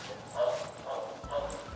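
A police dog barking and yipping in short bursts during training with a protective bite sleeve, fairly close, with faint talk around it.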